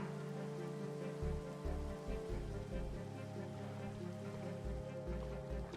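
Steady rain falling in the video game Minecraft, a dense, continuous wash of patter with low rumbling pulses underneath, filling the whole stretch without any talk.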